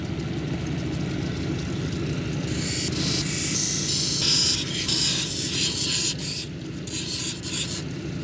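Silicified sandstone cabochon ground on a 220 grit wheel, a steady wet whirring rub with a continuous motor hum and spray-like hiss, the scraping texture swelling and easing as the stone is worked, with no talk.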